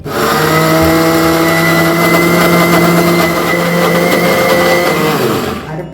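Mixer grinder grinding wet spice paste with water for papaya curry, a loud steady motor whine with stable tones running continuously for about five seconds before it winds down at the end.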